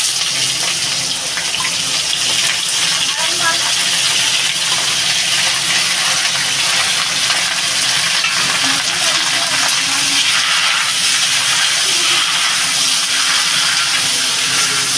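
Pumpkin tipped into a hot pan sets off a loud, steady hissing sizzle that carries on evenly without a break.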